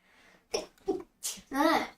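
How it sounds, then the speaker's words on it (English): A sharp, close sneeze bursts out, preceded by a couple of quick breaths or vocal sounds. "Excuse me for sneezing today."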